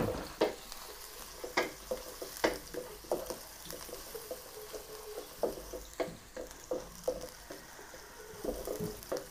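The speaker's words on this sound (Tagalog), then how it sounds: "Magigisa po muna tayo sibuyas, bawang." Onion and garlic sautéing in a pan, a close, quiet sizzle broken by repeated irregular scrapes and knocks of a utensil stirring, no talking.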